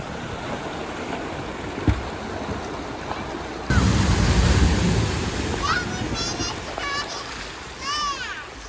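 An off-road vehicle splashes through a shallow water crossing on a desert river loop, a rush of water and engine noise rising midway, with whistles and children's chatter over it.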